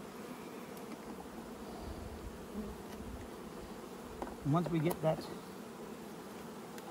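Honey bees buzz around hives during a winter honey harvest, a soft continuous drone with a louder close pass as a bee flies near, under a brief spoken phrase.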